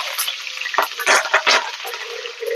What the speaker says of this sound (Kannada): ಸಾಸಿವೆ ಚೆನ್ನಾಗಿ ಚಿಟಾಪಟ ಅನ್ಬೇಕು